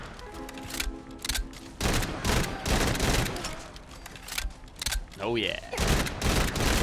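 Paired explosive automatic pistols fire akimbo in Fallout 4, a dense, loud fusillade of rapid booming shots with a brief voice exclaiming partway through.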